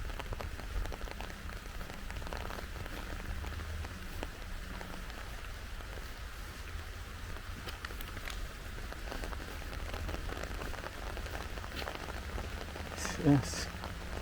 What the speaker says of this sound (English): Even though the rain is coming down